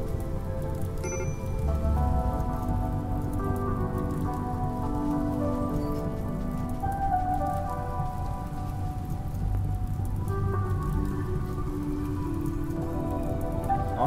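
Foggy rain in the colony-building game Rimworld pours down in a steady, dense, loud patter with a low rumbling bed underneath, continuous and without any talking.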